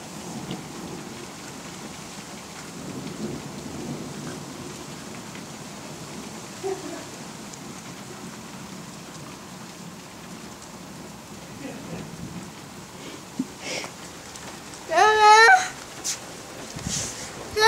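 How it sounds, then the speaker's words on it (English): Rain falls steadily through a thunderstorm with low rumbles of thunder in the background. Faint voices come and go, and a dog briefly yelps or whines near the end. "it's thundering and lightning out there"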